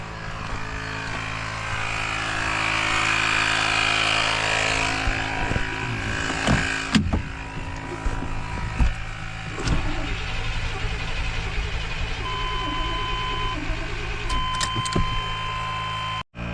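A 1992 Chevy Blazer engine with a popped muffler runs loudly and steadily up close, a rough droning rumble with a few sharp knocks and clatters partway through before it cuts off at the end.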